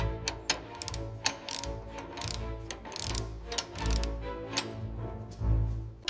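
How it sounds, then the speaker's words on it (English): Mechanical clicking and ratcheting as an axle slides into its housing on an 1894 Benz Velocipede under restoration, with a brass collar clicking; a steady run of close, distinct clicks with a low hum underneath, no talking. "the axle slides smoothly into the housing"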